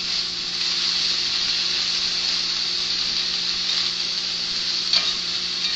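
Pork and scrambled eggs stir-fry in a pan with a steady, close sizzling hiss throughout, and a single small clink near the end.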